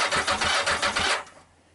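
A Yamaha XJ900S motorcycle engine cranks over on the starter in a rapid, rhythmic churning for about a second and a quarter before stopping, close and fairly loud.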